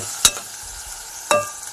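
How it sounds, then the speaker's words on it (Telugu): Onions, green chillies and seasoning seeds fry in a pan under a low, steady sizzle, with two sharp scraping clatters of a spoon stirring them. "బాండీ పెట్టుకుని ఉల్లిపాయలు పచ్చిమిరకాయలు వేసుకుని తాలింపులు గింజలు కూడా వేసుకుని"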